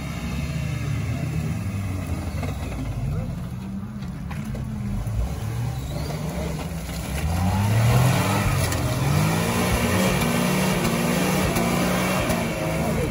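An off-road race car grinds through a muddy race with a continuous engine drone that swells louder around the middle and holds a rough, revving roar to the end.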